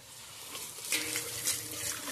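Water from a running motor pump pours into a bucket, a steady close splashing trickle with no talk.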